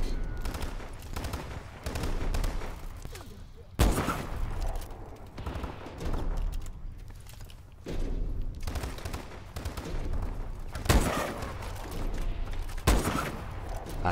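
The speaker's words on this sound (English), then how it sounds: "I keep shooting through stuff." Gunfire in an online shooter video game, dense bursts of rapid automatic fire with several sharp, loud single cracks standing out, continuous and close throughout.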